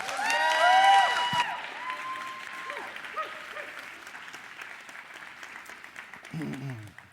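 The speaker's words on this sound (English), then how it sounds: "Can you give her a round of applause?" An audience breaks into loud applause that peaks early, then thins out gradually into scattered clapping, with some tonal sounds and voices mixed in at the start.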